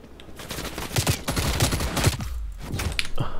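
Rapid automatic gunfire bursts from the shooter game Black Ops Cold War, loud and continuous for a few seconds with a brief lull, no talking over it.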